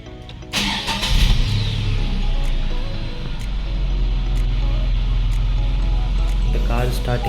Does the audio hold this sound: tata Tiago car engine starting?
yes